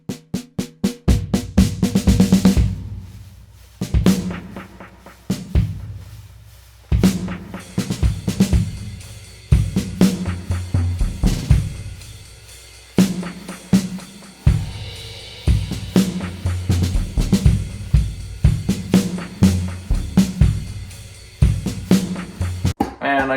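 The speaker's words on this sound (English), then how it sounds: "the whole drum set at the end sounds like this" A full drum kit plays near the close of a produced pop song, with rhythmic kick and snare hits and crashing cymbals layered over bass and melody, loud and continuous apart from brief drops into near silence.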